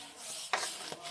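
Atta dough for fuchka is kneaded by hand: quiet, close rubbing with two brief pressing squishes, no voices.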